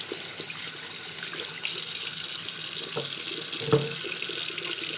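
A tap runs steadily into a sink as makeup brushes are rinsed under the stream, a continuous close wash of water with a small clunk near the end and no talk.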